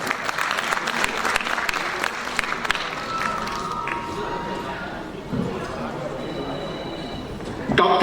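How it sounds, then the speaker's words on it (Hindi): Applause at a literary award ceremony, steady crowd clapping with murmured voices in the background, moderately loud and continuing throughout. "एक बार तालियों के साथ अभिवादन।"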